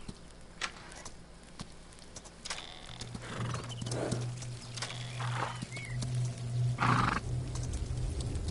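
Horse in the video game Citadel: Forged with Fire, with clip-clop hooves and a whinny over a steady low game hum, fairly close and moderately loud with no talk.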